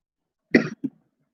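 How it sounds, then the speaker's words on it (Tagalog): A single sharp cough followed by a smaller second one, close and clear against silence. "Ubo lang ako."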